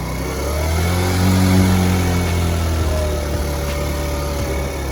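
A Honda Ruckus scooter engine idles close by, its steady low hum rising briefly into a mild rev and then settling back, with the idle wavering up and down.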